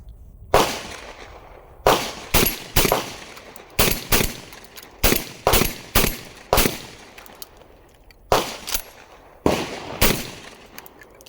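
A Mac 1014 shotgun, a clone of the Benelli M4, fires in a string of loud, sharp blasts, some spaced singly and some in quick pairs and triplets, each with a short decaying tail.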